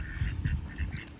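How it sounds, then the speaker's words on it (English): Ducks quack outdoors near a body of water, several short nasal calls in an uneven run at moderate distance, with no talking. "There's some ducks over there."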